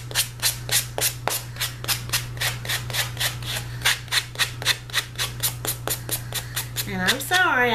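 Repeated sanding or rubbing strokes smoothing rough, sharp edges on a shack craft piece, a steady rhythm of about three scrapes per second close up over a constant low hum.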